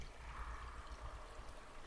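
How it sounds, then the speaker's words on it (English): Rushing and dripping water inside a castle, a steady soft wash of flowing water with faint low rumble, continuous and fairly quiet, with no voices. "You're able to hear like rushing water like coming through."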